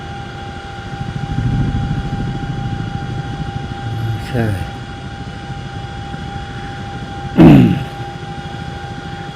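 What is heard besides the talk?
Chinook helicopter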